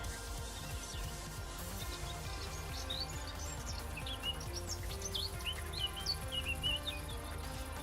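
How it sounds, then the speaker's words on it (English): Ambient birdsong from a Minecraft ambient sounds mod, faint scattered chirps and tweets over a steady insect-like buzz and low rumble, with no voices. "The bird noises are also with the ambient sounds"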